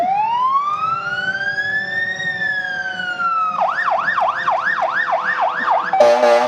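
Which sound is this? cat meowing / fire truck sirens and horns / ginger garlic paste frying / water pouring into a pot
fire truck sirens and horns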